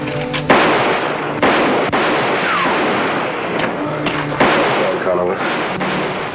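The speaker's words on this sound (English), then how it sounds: "Keep firing, Toro." Gunfire in a 1952 western TV series, a volley of sharp shots and heavy booming reports fired repeatedly over a sustained noisy rush, some blasts spaced about a second apart.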